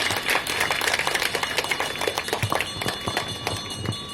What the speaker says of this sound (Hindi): सभी एक बार तालियां बजाइए नरेश भाई जी के लिए